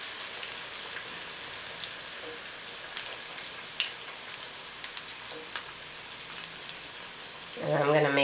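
Corn vada fritters frying in hot oil give a steady, soft crackling sizzle throughout, with a brief louder bubbling burst near the end, and no voices.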